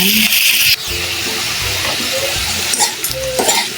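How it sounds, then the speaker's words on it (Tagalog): Large shrimp dropped into a pan of sautéed garlic and onion: a sharp burst of sizzling turns into a steady frying hiss, with stirring scrapes and light clinks of a utensil on the pan near the end. "nagigisa na yung ating bawang at sibuyas. Ilagay ko na guys yung hipon"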